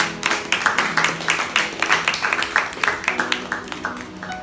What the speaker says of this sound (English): Give the Lord a clap of him.